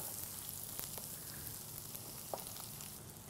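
A soft, steady sizzle of chopped onion hitting hot oil with lightly browned garlic and whole chilies in a pan for peanut chutney, a faint continuous crackle with a few small pops.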